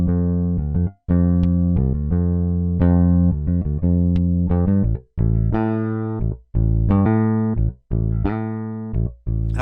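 Toontrack EZ Bass playing a classic rock bass groove: a steady run of plucked electric bass notes in repeated phrases, loud and up front with brief gaps between figures and no talking.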